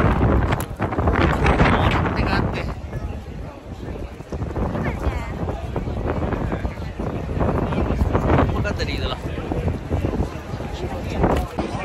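Gusty wind and rain roar against the microphone with a rushing, spattering texture, while a person talks over it at times.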